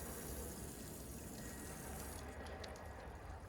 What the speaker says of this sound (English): So that's where the water is being diverted based on the design of the cowl.